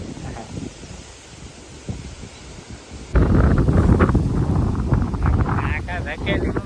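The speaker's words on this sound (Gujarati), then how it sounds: "એટલો પવન આવે" Strong gusting wind ahead of a storm at Botad, roaring across the microphone and rustling trees, moderate at first and then suddenly much louder and buffeting; someone talks throughout.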